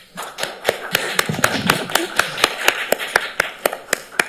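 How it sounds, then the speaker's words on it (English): Applause at a council meeting with a few people clapping in a slow, steady rhythm, each clap crisp and distinct over a low murmur of the room. "I don't usually get applause when I cry"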